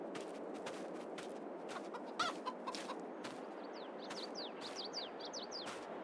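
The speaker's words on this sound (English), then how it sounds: "So we have our chicken area. 50 chickens available here." Chickens in the Farming Simulator 22 game cluck in a steady scattered stream from a penned flock of about fifty birds, with occasional sharper chirps and calls cutting through the low barnyard ambience.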